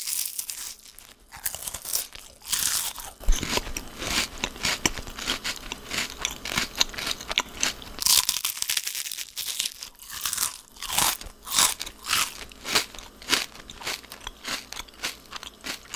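Repeated loud, crisp crunching and crackling as someone bites into and chews a Kinder Bueno-style hazelnut wafer candy bar, close up, with a wrapper crinkling and no talk.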